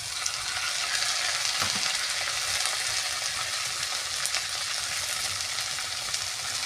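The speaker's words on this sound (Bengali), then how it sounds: "ভাজা হয়ে গেছে, এবার মশলাগুলো দিয়ে দিচ্ছি।" Spices fry in oil in a pan with a constant, even sizzle and crackle, close by and fairly quiet, with no voices.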